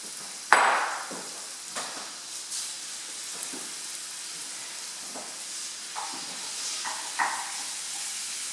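Spiced minced lamb frying in a pan and being stirred, with a sharp sizzle burst at the start, then a steady hiss broken by scattered scrapes and clacks of the utensil.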